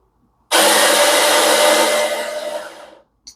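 A Neretva stainless steel burr coffee grinder whirs loudly and steadily for about two and a half seconds, then winds down as the motor stops.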